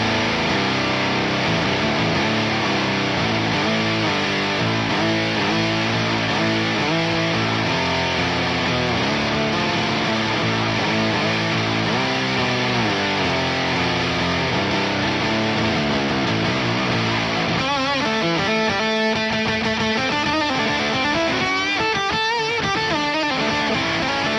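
Heavily distorted electric guitar through a Source Audio Ultrawave stereo distortion pedal, playing chords and riffs, thick and saturated, with the tone morphing into a choppier, stuttering texture toward the end.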